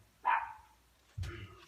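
A dog gives two short barks indoors, one sharp yip followed after a pause by a lower, gruffer woof, both faint and somewhat distant.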